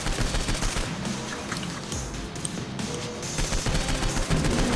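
Rapid, dense gunfire fills the whole stretch in the co-op video game Saints Row 4, a loud continuous barrage of overlapping shots with no pauses.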